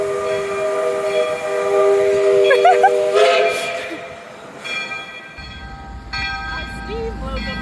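A steam locomotive near downtown Snoqualmie sounds a loud, sustained multi-tone whistle over steady hiss and rolling rail noise, with a brief low rumble late in the passage.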